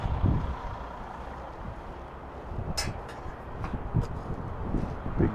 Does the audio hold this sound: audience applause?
no